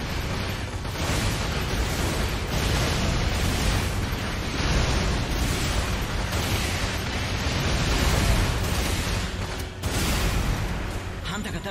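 Heavy weapon fire from a piloted mecha in the video game Hardcore Mecha, firing an arm gun and a chest weapon at once, producing a loud, continuous roar of blasts and rumble.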